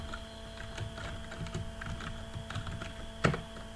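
Keystrokes on a computer keyboard while entering Cisco router line vty configuration commands and a password, a steady patter of close, fairly quiet clicks with one sharper, louder key press near the end.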